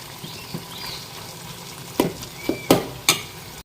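Vegetable curry (shaak) frying in a pan at home, with quiet sizzling, faint rustles, and several sharp spatters and stirring knocks clustered toward the end.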